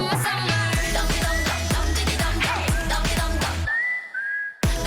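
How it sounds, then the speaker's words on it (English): A whistled melodic line in a K-pop track fills a pause after a dense beat with heavy bass hits, the whistle standing out alone near the end before the music crashes back in. "I love the pause and filling it out with that whistle."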